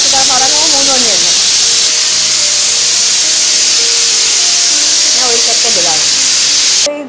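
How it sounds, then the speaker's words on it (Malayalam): A large 42-litre pressure cooker cooking beef at a street food stall vents a loud, continuous steam hiss for about seven seconds, with voices talking over it and cutting off abruptly at the end. "കുക്കറിന്റെ വിസിലാണ്"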